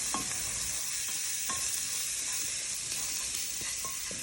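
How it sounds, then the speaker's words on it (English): A pasta sauce with fresh basil sizzles in a pan while a spoon stirs it, making a steady frying hiss with several soft knocks and scrapes against the pan and no talking. "We're just going to give it a quick stir, combine everything together."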